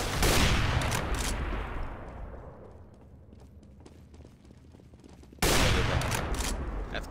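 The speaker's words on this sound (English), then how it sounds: "Throwing grenade." Grenade blast in Counter-Strike: Global Offensive, a loud burst with heavy gunfire that fades into quieter scattered shots, then a second abrupt loud explosion near the end.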